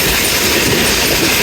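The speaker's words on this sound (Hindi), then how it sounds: "तो कड़ियाला से पास हो रही है ट्रेन।" Jaffar Express train rolls by close up with a loud, continuous roar, its wheels clattering rhythmically on the rails and squealing faintly now and then, with no voices.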